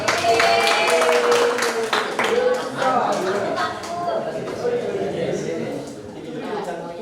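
Applause from a crowd, a burst of clapping that starts loud and gradually thins out over several seconds.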